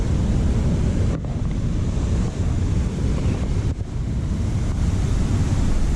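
Water pouring over Tingue Dam on the Naugatuck River makes a steady, loud broadband rush, continuous for the whole stretch with some wind buffeting on the microphone.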